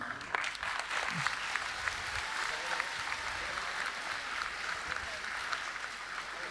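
Concert crowd applauding, a sustained wash of clapping filling the hall, steady and fairly close.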